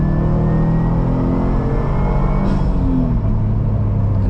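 A 2018 Subaru WRX STI pulls hard in second gear from the driver's seat, its engine note loud and steady as turbo boost builds, with a dense, continuous rumble and no break.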